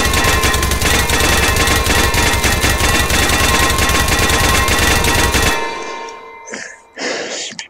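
A gun in a mixed reality game fires a long, loud, rapid burst of automatic gunfire that runs until the magazine empties, then stops abruptly, followed by a few quieter clicks and handling sounds.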